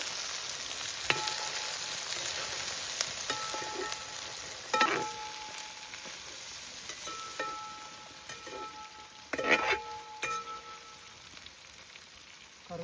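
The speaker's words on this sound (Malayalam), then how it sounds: "വെളുത്തുള്ളി, നമുക്ക് ഇതിനെ നല്ലപോലെ വഴറ്റിയെടുക്കാം." Garlic sautés in a pan for Idukki style botti curry. A faint, steady sizzle carries throughout, broken by a few short scraping stirs.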